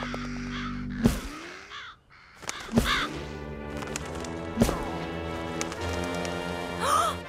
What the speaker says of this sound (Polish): się pozbyć tych wron!